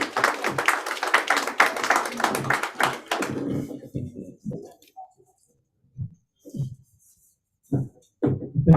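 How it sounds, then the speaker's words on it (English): Audience clapping at a business talk on Ghana's agribusiness, a burst of brisk applause for about three seconds that fades out, followed by a few isolated taps and thumps. "A round of applause, please."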